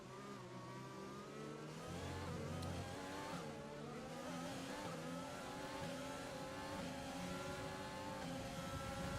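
A Mercedes Formula 1 car in the F1 2020 racing game, its engine whining with rising and shifting pitch as it closes in and passes, loud and continuous with no talk over it.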